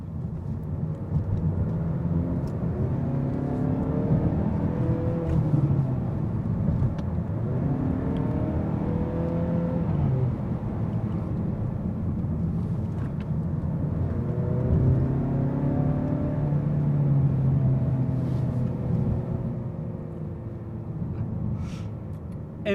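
A 2019 Mazda 3 hatchback accelerating hard in sport mode, its engine note climbing steadily through several gear pulls with brief dips at each shift, loud and continuous with no talking.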